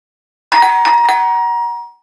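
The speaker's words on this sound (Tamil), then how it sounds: "இப்ப யார் வந்திருக்கா? காலிங் பெல் அடிக்கிறாங்க." A doorbell rings once with a clear electronic ding-dong chime, three quick bright strikes that ring out and fade after about a second and a half, with no voices.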